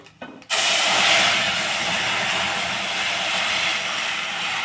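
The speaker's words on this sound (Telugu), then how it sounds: "టపాలు చిట పట చిట పట అంటున్నాయండి మాకు" Tempering spices for rasam crackle and sizzle in hot oil, a loud, dense hiss that bursts in abruptly after a brief pause and holds steady to the end.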